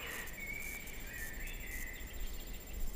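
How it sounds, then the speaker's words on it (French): Birds chirp and sing in a calm forest, a few thin whistling calls weaving through a steady background hiss, faint and distant with no voices. "On entend juste les oiseaux et parfois les branches qui craquent."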